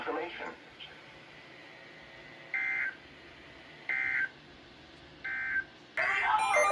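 Emergency Alert System broadcast tones sound as a series of short, steady electronic beeps, four evenly spaced bursts, clear but moderate over a background of broadcast noise and faint talk.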